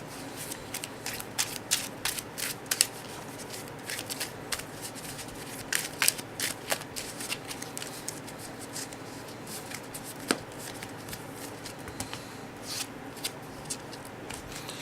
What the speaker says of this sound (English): We then shuffle the deck.